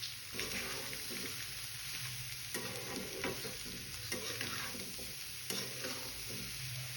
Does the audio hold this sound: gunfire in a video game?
no